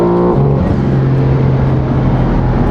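BMW M4 with an exhaust leak, running on engine map 3, holds a loud, steady engine drone that drops in pitch early on and then stays even, close by with no talking.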